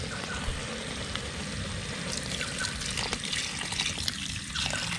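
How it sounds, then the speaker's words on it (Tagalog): Water pours steadily into a large cooking pot for boiling foraged forest snails (taklong), a continuous close splashing rush with no talk. "Lagyan na natin ng tubig. Laking lagayan ng tubig nito."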